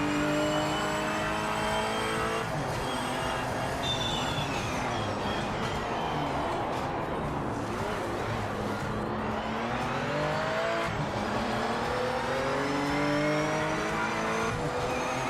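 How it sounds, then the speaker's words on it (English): Race car engines in the Project Motor Racing video game, revving and accelerating steadily with rising and falling gear-change pitches and occasional tire squeal, loud and continuous throughout. "Can you hear the car now?"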